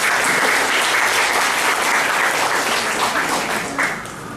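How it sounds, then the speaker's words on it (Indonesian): An audience at a national seminar claps together in a sustained, dense burst of applause that carries steadily before fading slightly at the close. "Tepuk tangan untuk beliau."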